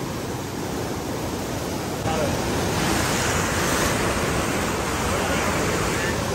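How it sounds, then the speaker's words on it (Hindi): Fast water rushes loudly and steadily through a large canal fitted with machines to slow the flow, a broad continuous roar that swells slightly partway through, with no clear talk over it. "पीछे से फुल तेज पानी आ रहा है और आगे यहाँ स्लो हो के ना, फिर यहाँ पुल के नीचे से ना इधर जा रहा है"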